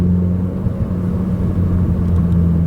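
Engine of a car with a manual 6-speed gearbox during a downshift, a steady loud low hum with a sustained drone tone and road rumble, continuous and close, no voices.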